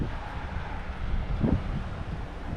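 Wind gusting over open water during a bass fishing outing near Daytona Beach, a steady low rumble of buffeting against the microphone that swells briefly midway, with no voices.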